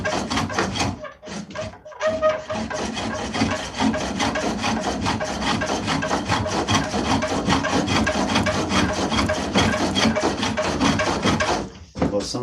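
A chisel scraping and cutting wood turning on a spring pole lathe, a continuous rough rasping with rhythmic strokes, close up, briefly pausing near the start and end.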